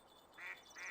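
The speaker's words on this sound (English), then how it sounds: "That's just regular duck right there." Two short nasal quacks from a duck in the fishing game Russian Fishing 4, faint and a little distant, standing alone over a quiet background.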